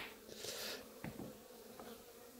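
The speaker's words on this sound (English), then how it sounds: "See, a lot of these bees will stay on that frame." Honey bees buzz softly around a beehive frame during a hive inspection, a continuous low insect hum with a few louder passes close by, steady and fairly faint throughout.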